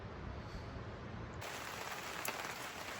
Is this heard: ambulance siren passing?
no